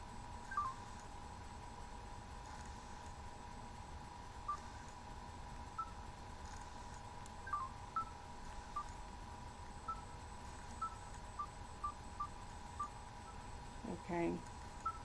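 A phone keypad sends a quick run of dialing tones as a number is entered, a string of short, evenly spaced beeps that stays faint under a constant electronic hum.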